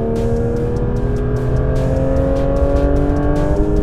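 A Porsche GT3 RS engine revs hard under acceleration, its loud, close tone climbing steadily in pitch over a few seconds, with no voices.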